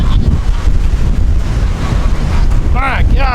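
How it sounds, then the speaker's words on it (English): Strong wind on a farm roars and buffets the microphone in a constant loud rumble, with a brief quacking sound near the end. "My gosh, this is windy."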